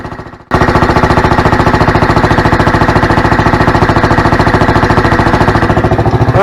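A golf cart fitted with a Predator 459cc engine starts up after a brief lull and runs steadily, a loud, close, rapid chugging with an even rhythm and no voices over it.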